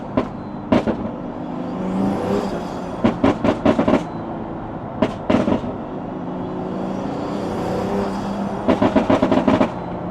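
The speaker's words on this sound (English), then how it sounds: "The exhaust in this is great" A Pagani Huayra's throaty engine revs and exhausts nearby, broken by several sharp bursts of crackles and pops in quick clusters, with no talking.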